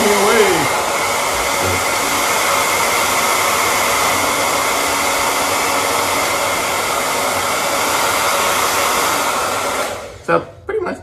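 A Wazor 1850-watt ionic hair dryer, switched on for the first time, blows with a steady, loud airy roar for about ten seconds before cutting off, with a few clicks after.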